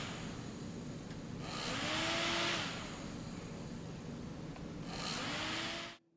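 Small DC motor driven through solid copper traces on a 3D-printed circuit, a faint steady whir with slight rises in pitch and level, running continuously before cutting off.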